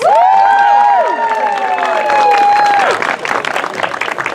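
A theatre audience at a Romeo and Juliet performance breaks into loud applause and cheering, swelling in after a few sliding tones and continuing steadily to the end.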